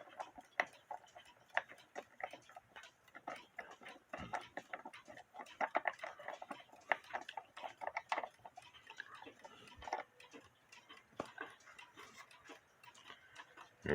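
Steady ticking of a Jerome & Co alarm clock made by the New Haven Clock Co around 1905, a quick even run of close, crisp ticks with faint handling clicks.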